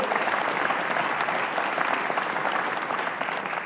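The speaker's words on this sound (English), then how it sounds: "one more round of applause for our panel" Sustained applause for a panel at an economic outlook event in Detroit, a broad steady roar of many hands clapping throughout, with no voice rising above it.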